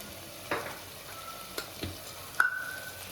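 Tomatoes sautéing in a pan, a faint low sizzle under a few sharp utensil clicks and taps, heard alone.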